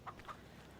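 Two quick, soft clucks from chickens in the farming video game Farming Simulator 25, faint and close together over a low background hum.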